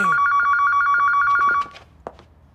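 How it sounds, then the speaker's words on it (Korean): An electronic office telephone ringer trills in rapid repeated bursts, loud and close, then cuts off, leaving faint rustling and a brief knock. "윤 팀장 전화 안 받을 거야?"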